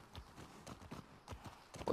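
Horse hooves galloping in The Last of Us Part II, a rapid rhythmic clip-clop of repeated thuds that stays moderately close and fairly quiet, with faint game ambience underneath.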